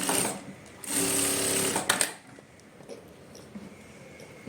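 A sewing machine stitches along the folded edge of blouse fabric in one steady burst of about a second, then stops, leaving quiet handling noise.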